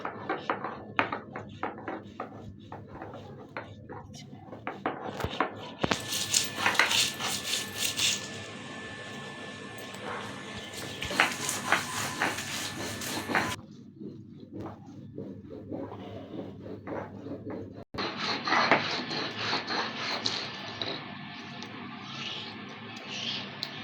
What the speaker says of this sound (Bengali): তো এখন পেঁয়াজ রসুনটাও বেটে নিচ্ছি।